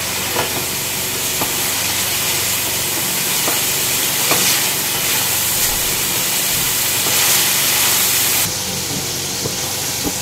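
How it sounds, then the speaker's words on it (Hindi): Chicken fries with masala in a pan over a high flame, giving a steady loud sizzle and hiss with occasional stirring scrapes throughout. "3 से 4 मिनट तक अच्छे से हमें यहाँ चिकन को भूनना है। फ्लेम मैंने हाई करा हुआ है"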